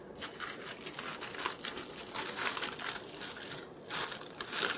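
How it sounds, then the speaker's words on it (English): Tissue paper crumpled and folded tightly around a hoya plant cutting while it is packed for shipping, a steady close crinkling and crunching that runs for several seconds without a break and with no talk. "tissue paper and I'm going to fold it over as tight as I can"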